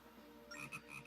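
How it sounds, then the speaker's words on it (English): Short burst of frog croaks from a character in Zelda Phantom Hourglass, three quick ribbit-like calls in a rising rhythm, clear and close over faint game background. "If you see my fellow frogs, give them my best, ribbit."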